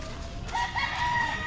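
A rooster crows with a rising, stretched-out call, chickens faintly clucking around it outdoors near Dawis Heritage Wharf.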